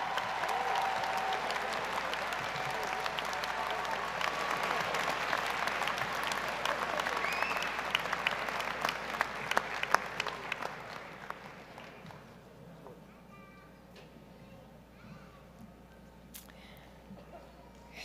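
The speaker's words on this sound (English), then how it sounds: "Will we all give them a round of applause?" Graduation audience at a business school convocation applauding the newly awarded master's graduates, a dense sustained wave of clapping that holds strong for about ten seconds, then thins out and fades to scattered claps.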